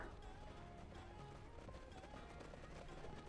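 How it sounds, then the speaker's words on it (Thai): Dota 2 creeps in the video game run out of their jungle camp after being stacked, giving a faint, steady patter of running footsteps under a quiet, busy game soundscape. "ได้เห็นไหมเมื่อกี้ถ้าฟังเสียงดีๆอ่ะ มันจะมีเสียงวิ่งขึ้นมา"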